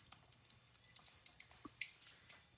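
Quick, light clicks from typing on a computer keyboard, a dozen or so close, crisp keystrokes in an uneven rhythm with no voices.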